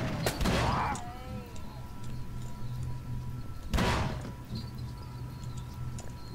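Gunfire in the game Call of Cthulhu: Dark Corners of the Earth, with two loud, sharp shot bursts a few seconds apart over a low, rumbling ambient background.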